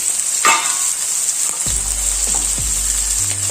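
Chopped onion and green chillies sizzle and fry steadily in hot oil, a constant close hiss with a few soft clinks of a spoon against the pan.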